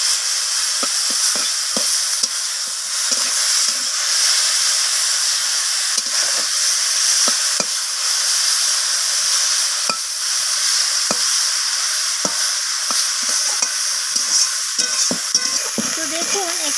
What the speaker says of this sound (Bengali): লবণ আর হলুদটাকে দিয়ে আমি কুচো চিংড়িটাকে নাড়াচাড়া করে